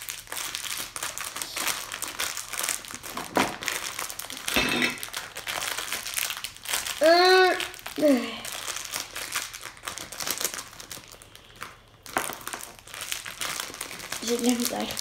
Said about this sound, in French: Donc, on va le déballer.